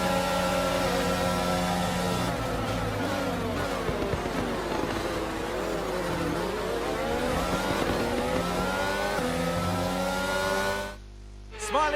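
A Formula 1 race car engine in the F1 22 game at Sakhir, a loud continuous high-pitched whine rising and falling through gear changes for several seconds, then cutting off abruptly near the end.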